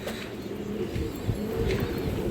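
Pigeons cooing softly in a loft among colourful hen pigeons offered for sale, low steady murmuring coos running continuously with faint background noise.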